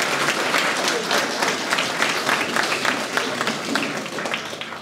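Sustained applause from an audience in a village hall during a mayor's New Year address, steady clapping with a fluttering rhythm, fading slightly toward the end.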